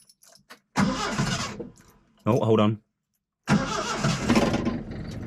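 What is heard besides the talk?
1971 Datsun car engine starting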